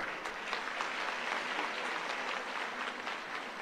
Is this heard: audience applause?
yes